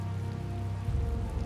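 Steady rain falls on the ground in the video game Tales of Vesperia, a continuous even patter with no voices, holding at a constant level throughout.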